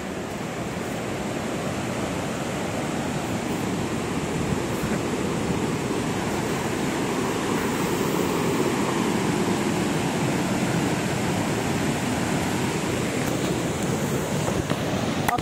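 Water at the Cimarinjung waterfall near Sukabumi rushes in a steady broadband roar, continuous and fairly loud, with wind buffeting the microphone and no voices.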